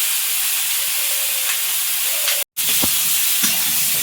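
Potatoes and eggplant fry in oil in a pan, giving a continuous loud hiss and sizzle up close, briefly cut by a moment of silence partway through.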